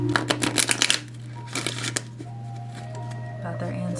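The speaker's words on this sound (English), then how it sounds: "Ugh, let's shuffle." Tarot cards are shuffled during a card reading: a quick run of crisp, papery riffles up close, then a few softer shuffles after a pause, with a steady low hum underneath.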